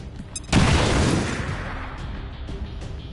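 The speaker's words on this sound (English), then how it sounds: "Just grenade him." A grenade explosion in the XCOM 2 video game lands as a single loud, sharp blast, followed by a rumbling decay and scattered debris sounds.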